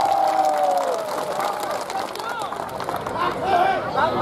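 An audience at a large Islamic religious gathering applauds and cheers in a dense, continuous roar of clapping and voices, with crowd chatter mixed throughout.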